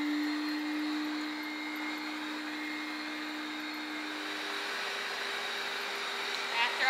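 A hair dryer blowing steadily over a Papillon's coat during grooming, a constant airy hiss with a faint hum, moderately close and unbroken throughout.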